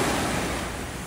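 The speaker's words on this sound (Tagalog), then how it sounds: "Ang ganda ng alon." Ocean surf breaks on a beach in La Union, giving a loud, steady wash of crashing water with no voices.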